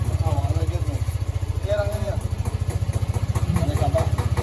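A small engine idles steadily after being repaired, a close, loud rhythmic putter with even regular pulses throughout, while people chat in the background over it.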